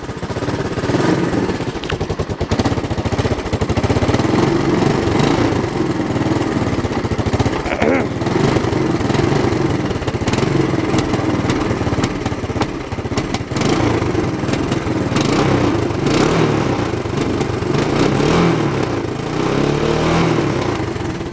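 A Honda ATC three-wheeler's small engine runs steadily at close range, throttle held open, with a rough, clattering, lawnmower-like drone throughout and a couple of brief dips near the start.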